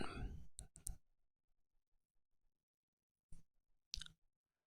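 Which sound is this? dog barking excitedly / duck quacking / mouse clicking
mouse clicking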